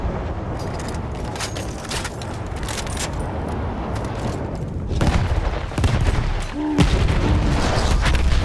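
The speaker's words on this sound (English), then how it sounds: "That explosion was one of the sweetest sights of the war for me." Explosion of a blown-up gun in the World War I shooter Battlefield 1, a sustained roar of blasts and gunfire with a heavier surge of booms near the end.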